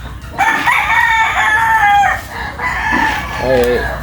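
Chickens cluck close by while a rooster lets out a loud, drawn-out crow, followed by a short burst of clucking.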